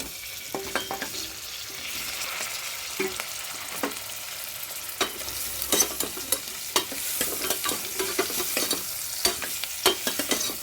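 Goat legs frying in oil with onion and turmeric give a steady close sizzle, broken by frequent sharp clinks and scrapes of a spoon stirring in the pan, with no talk.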